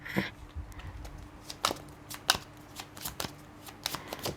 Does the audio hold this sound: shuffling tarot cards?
yes